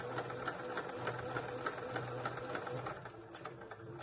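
A sewing machine stitching a dart on an indigo dress, a steady fast whirring hum with regular needle ticks, running close and continuous before easing slightly near the end.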